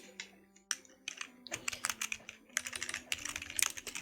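Fingers type on a computer keyboard, entering answers into a user-input program. The keystrokes come in quick, uneven clusters, close and fairly soft, and no one speaks.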